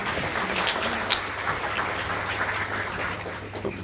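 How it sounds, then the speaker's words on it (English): An audience at a women's business networking lunch applauds, a steady wash of many hands clapping in a room that sustains without a break across the few seconds. "So everyone, a round of applause for yourselves for today."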